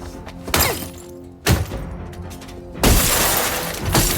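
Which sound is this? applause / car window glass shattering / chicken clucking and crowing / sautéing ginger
car window glass shattering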